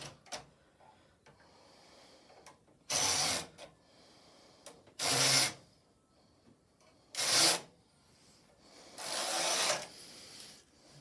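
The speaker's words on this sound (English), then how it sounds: "take the carriage off and put it safely on one side, and then pull the sponge bar out" A worn sponge bar (needle retaining bar) is pulled out of a domestic knitting machine bed in four separate scraping slides, each about a second long, with quiet pauses in between.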